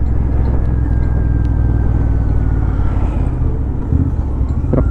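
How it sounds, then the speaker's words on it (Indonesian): A bald dump truck passes on a road, with a loud, sustained low engine rumble close by throughout. "Namanya truk gundul ini"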